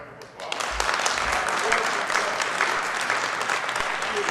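An awards-event audience applauds the county executive, sustained broadband clapping from a crowd that swells quickly and holds steady, with faint low thumps and murmured voices underneath.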